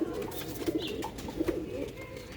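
Sialkoti pigeons cooing close by, soft low coos repeating in an uneven rhythm over a quiet background.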